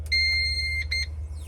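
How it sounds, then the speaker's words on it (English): A West decoder powering on gives one long electronic beep followed by two quick short beeps, clear and close against a low background hum. "It'll beep at you like that and turn on."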